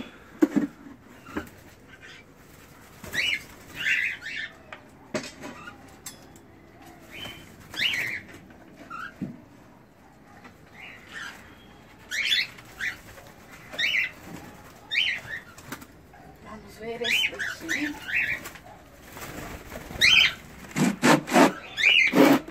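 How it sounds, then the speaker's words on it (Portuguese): White-faced and albino cockatiels move about an aviary, with scattered wing flaps, scrabbling on wood and short chirps and calls at moderate distance that grow busier near the end. "Esse é o nosso viveiro de calopsita cara branca e albina."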